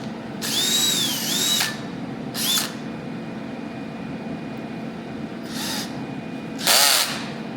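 A brand-new power drill, used while working on headers for a Pontiac GTO, whirs in several bursts, a long run followed by shorter spurts of whining motor separated by pauses.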